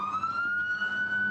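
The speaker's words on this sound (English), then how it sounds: "Hold on, wait for this ambulance to go by." An ambulance siren passes nearby outdoors, a steady loud electronic wail with a slowly rising pitch and traffic rumble beneath, heard alone without talk.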